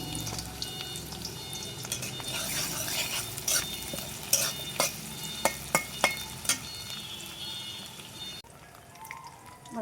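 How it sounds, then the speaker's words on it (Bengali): Chopped onions fry in hot oil in a pan while shrimp curry with bottle gourd is being made, giving a steady soft sizzle with a few sharp scraping stirs near the end. "আমার পেঁয়াজ ভাজা হয়ে গেছে,"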